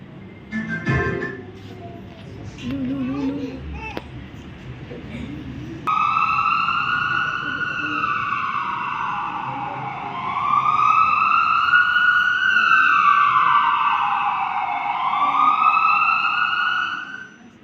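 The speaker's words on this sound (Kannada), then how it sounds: "ಒಂದು ಆಂಬ್ಯುಲೆನ್ಸ್ ಸೌಂಡ್ ಅನ್ನು ಕೇಳಿಸಿಕೊಳ್ಳುತ್ತಾಳೆ" After a few seconds of muffled sounds, an ambulance siren starts up, wailing in rising and falling sweeps that grow louder as it approaches.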